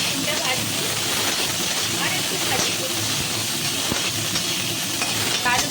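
Potatoes and flat beans fry in a pan after chilli and panch phoron, making a loud continuous hiss and sizzle up close with occasional stirring, while a person talks over it.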